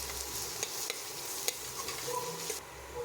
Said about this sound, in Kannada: ಫ್ರೆಶ್ ಆಗಿ ಜಜ್ಕೊಂಡಿರುವಂತಹ ಶುಂಠಿ ಬೆಳ್ಳುಳ್ಳಿ ಪೇಸ್ಟನ್ನು ಸೇರಿಸಿ ಇದನ್ನು ಸಹ ಹಸಿ ವಾಸನೆ ಹೋಗೋವರೆಗೂ ಇಲ್ಲಿ ಫ್ರೈ ಮಾಡ್ತಾ ಇದ್ದೀನಿ